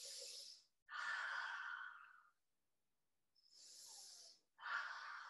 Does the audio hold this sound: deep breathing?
yes